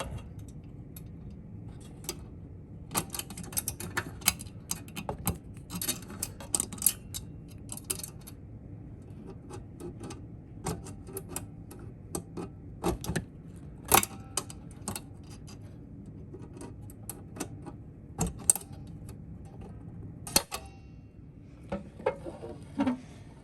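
A bent paper clip scratches and ticks inside the lock of a Wincent smart portable gun safe, faint irregular clicks and rattles scattered over a quiet background with no speech.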